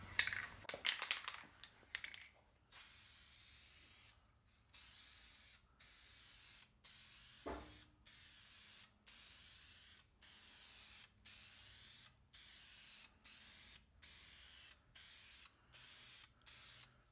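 Spray gun laying a primer coat on a 1965 Austin-Healey 3000, heard as a steady series of evenly spaced hissing bursts, each a second or so long with short gaps between, after a few clattering handling noises at the start.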